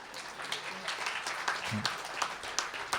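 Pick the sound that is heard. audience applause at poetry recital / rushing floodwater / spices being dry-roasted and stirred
audience applause at poetry recital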